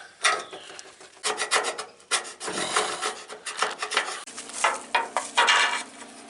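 Paint being scraped off a metal surface, heard as repeated harsh rasping strokes in uneven bursts, close and fairly loud, with no talking.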